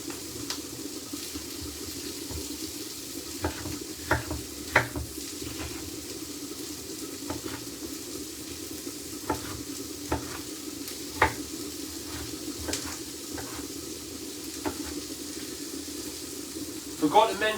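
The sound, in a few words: peppers being added to a pan and frying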